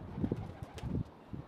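Pigeons coo in soft, low, rounded calls from a large rock outcrop on the western slope of Inwangsan in Seoul, several hoots in a loose rhythm at moderate distance, with a faint flutter of wings.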